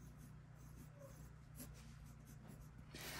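Faint scratchy mechanical pencil strokes on paper, soft and close, repeating steadily over a low background hum.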